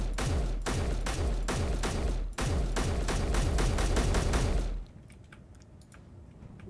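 Turret gunfire in Space Engineers rattles in rapid, evenly spaced bursts, loud and punchy for several seconds before cutting off abruptly, leaving a faint hum with a few scattered clicks.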